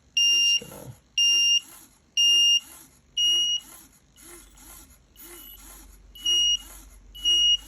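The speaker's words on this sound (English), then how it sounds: "we've gone back into the alarm routine, so that's going off." An alarm beeps in repeated short high-pitched bursts, about one per second, fairly loud and close, with faint mechanical ticking between beeps.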